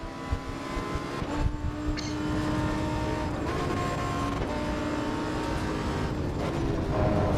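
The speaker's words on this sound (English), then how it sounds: "this is a race car of course, but a Huracan" Lamborghini Huracan race car in Assetto Corsa EVO on the Nürburgring, its engine droning continuously with repeated pitch swells and brief dips as it accelerates and shifts, loud and sustained throughout.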